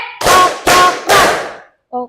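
A classroom of students does a group clapping game: three loud synchronized bursts of clapping in a quick rhythm, each dying away briefly, with a teacher's voice heard before and after the claps.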